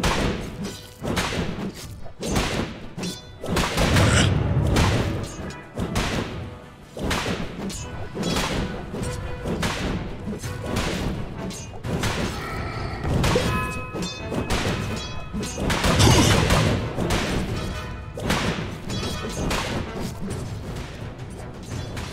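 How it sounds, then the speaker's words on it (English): Dota 2 battle as towers come under attack: dense, continuous thuds, crashes, whooshes and spell impacts, loud and busy throughout with no pause. "Radiant's bottom tower is under attack. Radiant's middle tower is under attack."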